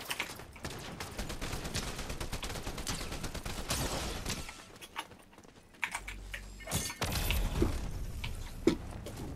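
Rapid gunfire in a video game crackles in dense bursts and volleys, close and loud, with short pauses between strings of shots.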